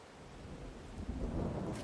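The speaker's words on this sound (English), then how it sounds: "It's a full-on thunderstorm." A game thunderstorm in Farming Simulator 22 brings steady rain and a low rolling rumble of thunder that swells louder toward the end, with no talking over it.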